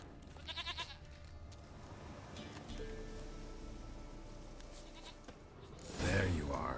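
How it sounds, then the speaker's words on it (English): A goat in The Witcher 3 gives a short, wavering bleat near the start and a louder, closer one near the end, over quiet game ambience with a voice speaking in between. "Here, goat."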